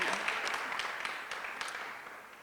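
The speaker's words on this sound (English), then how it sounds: "Please give them a round of applause." Steady applause from a crowd at a university competition final, a wash of many hands clapping that gradually fades toward the end.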